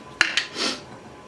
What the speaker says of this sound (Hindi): स्पैचुला की मदद से इसको अच्छे से मिक्स करते हैं।